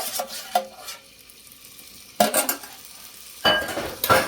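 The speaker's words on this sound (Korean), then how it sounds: "데쳐진 연근을 넣고 살짝 볶아주세요" Blanched lotus root is stir-fried in oil in a pan, giving soft sizzling under intermittent scraping and clinking bursts from a utensil tossing the slices.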